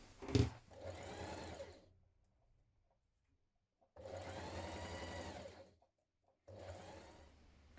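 A sewing machine basts a sleeve insert onto a jumpsuit bodice, running in two steady buzzing bursts of a second or two each, with a quiet pause between them and a third run starting at the end.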